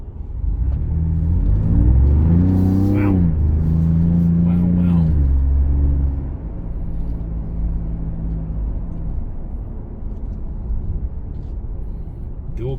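2025 Ford Bronco Stroppe Edition engine, rated at 330 horsepower, revving under acceleration from inside the cabin: a rising, swelling roar with gear-change dips, then settling into a steady road rumble with someone talking over it.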